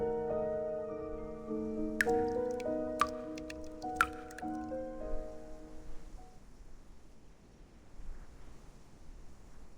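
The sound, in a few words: water dripping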